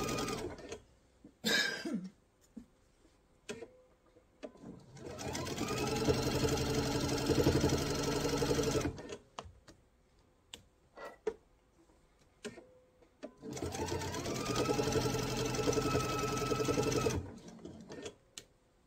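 A sewing machine runs a second line of stitching on a mesh tote in two long, even bursts of close whirring, separated by quiet handling clicks, taps and a brief cough.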